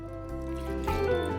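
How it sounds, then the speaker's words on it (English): Water poured into a pot holding potatoes, a steady filling stream whose pitch rises as the pot fills, close and continuous with no voices. "Put the potatoes in a pot and add water."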